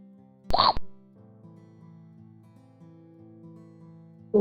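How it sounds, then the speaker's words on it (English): One short, sharp chomp sound effect from a snake game bursts out over a quiet background electronic music loop. "So for that we will add a chomp sound."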